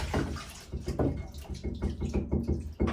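Excess water drips and splashes off a screen printing screen lifted from a soak in a washout tank during screen reclaiming. Irregular close splattering patters and trickles run steadily with no voices.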